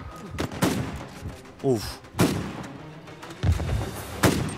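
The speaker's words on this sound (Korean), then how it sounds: "나 쏜다, 나 쏜다, 나 쏜다" Gunfire in the PS4 game Uncharted 4: several sharp, loud shots spaced irregularly, some close together, with someone talking excitedly between and over them.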